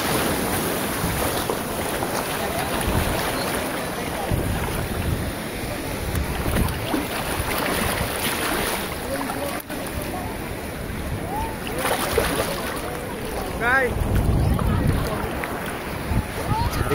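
Sea waves at Murud beach rush in a dense, continuous surge mixed with wind buffeting the microphone, with distant voices faintly present and a louder swell near the end.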